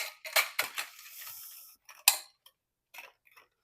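Metal canning jar lids clink and clatter as a handful is picked up and shuffled, several sharp bright clicks early on, one crisp clack near the middle, then a few faint scattered taps.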